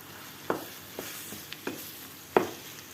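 Tomatoes and minced meat cooking in a pan, a low sizzle with a few sharp stirring knocks and scrapes of a utensil, spaced irregularly.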